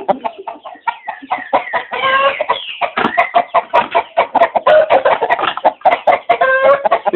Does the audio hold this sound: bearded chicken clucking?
yes